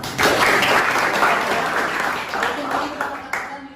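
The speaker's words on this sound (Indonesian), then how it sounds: "Oke, tepuk tangan dulu untuk Bapak." Classroom of students applauding together for their teacher, a dense burst of clapping that stays loud and steady for several seconds before tapering, with a little speech mixed in.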